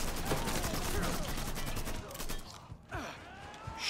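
Dense automatic gunfire in Mafia III, a sustained rattling fusillade that breaks off after about two seconds, followed by a few scattered shots and thuds.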